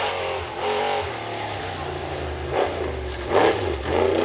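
An off-road race truck at the Norra 500 Yokohama riverbed stage accelerates hard, its engine roaring with rising revs and surges, loud and fairly close, while people talk over it.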